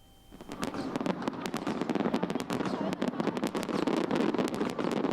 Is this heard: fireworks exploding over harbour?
yes